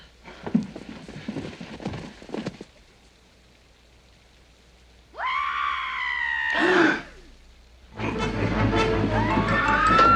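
A woman in a scene from the film Clue lets out a long, loud, rising scream that breaks off suddenly. It falls between stretches of rain and thunder-like rumble, with other noisy commotion before it.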